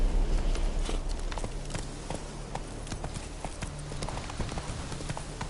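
The horse Roach trotting in The Witcher 3, with steady, rhythmic hoof clip-clops at moderate volume over a low ambient hum.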